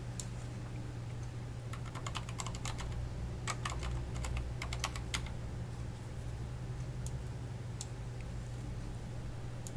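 Typing on a computer keyboard while entering text in graphics software produces steady close key clicks in quick bursts over a constant low hum, with no talking.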